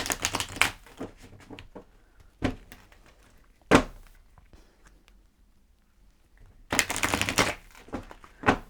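Tarot cards are riffled and snapped in several crisp bursts, with quieter pauses and single taps between, close by and without talk.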